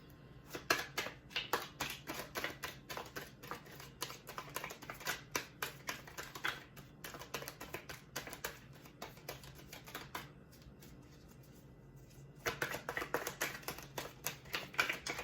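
A deck of tarot cards being shuffled by hand, quick riffling bursts of crisp papery flicks and taps close by, pausing briefly before a final flurry, with no talking.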